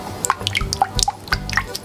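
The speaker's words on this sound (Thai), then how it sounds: "ใส่เกสรีนลงไปนะคะ" Glycerin is poured into a melted coconut oil mixture for a homemade hand cream, producing close, quiet dripping and trickling with irregular little splashes.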